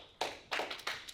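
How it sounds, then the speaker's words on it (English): A live audience claps three times in quick succession, a sharp burst followed by two more spaced group claps, fairly close and without talk. "everybody give Sammy 3 claps"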